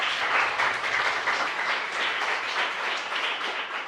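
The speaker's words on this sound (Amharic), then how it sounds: "ሞቅ ያለ ጭብጨባ" Steady, dense applause from a group of students in an Ethiopian film classroom scene, continuous and fairly loud throughout with no talking.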